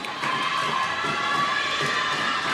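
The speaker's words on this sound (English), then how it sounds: "As the girls cheer their players" Girls cheer for their players at a college volleyball match between McLennan Community College and Hill College, a continuous high-pitched crowd of shrill voices filling the gym, steady and moderately loud.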